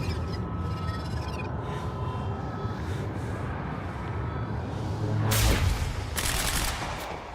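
Gunfire in the video game Quantum Break crackles in a dense, rolling volley under ambient game noise, then a sharper burst swells loud near the end.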